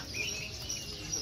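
Chirping calls from caged Javan mynas (jalak kebo) at a busy Yogyakarta bird market, steady and fairly close over a continuous crowd murmur.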